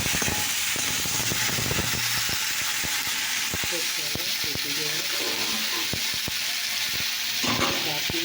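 Whole five-spice seeds sizzle and spit in hot oil in a pan for a potato and pointed gourd curry, a steady frying hiss broken by frequent small crackles and taps, with a voice talking at times.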